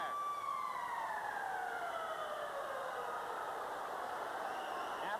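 A hockey arena horn or siren sounds at the end of a 1988 Nordiques versus Canadiens game in Quebec. Its loud, sustained, wavering tones carry through the whole stretch over steady crowd noise.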